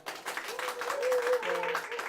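Brief audience applause at a Korean book forum talk, a short burst of clapping mixed with voices and a sustained tone.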